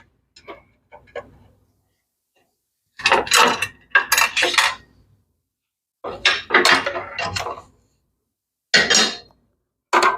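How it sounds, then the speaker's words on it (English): Screws come out of a Shopsmith table saw insert in several short clusters of metallic clicks and clinks separated by silence, close and fairly loud. "Remove our screws for our table saw insert."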